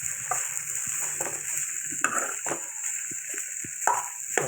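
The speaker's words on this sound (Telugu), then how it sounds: "మధ్య మధ్యలో కలుపుతూ ఉండాలండి" Beans and carrot curry fries in a pan while being stirred, a continuous soft sizzle broken by repeated scrapes and light taps of the spoon, close and fairly quiet, with no voices.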